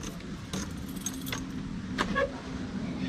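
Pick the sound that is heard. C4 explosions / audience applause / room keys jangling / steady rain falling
room keys jangling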